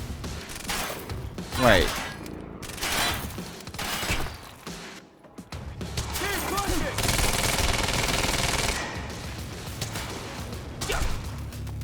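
Rapid bursts of automatic gunfire and whooshing effects from the Quantum Break video game, loud and dense for most of the stretch, with a brief lull midway and a voice speaking briefly over the shooting.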